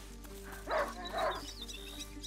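Two muffled barks from a hunting dog in the video game A Plague Tale: Innocence, spaced about half a second apart and moderately loud over a steady low game hum, with no talk.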